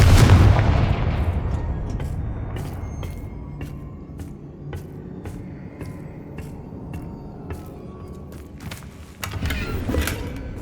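A Confringo fire spell blasts in Hogwarts Legacy, a loud booming burst at the start followed by a long crackling, rumbling decay with scattered sharp snaps, then another swell of impact near the end.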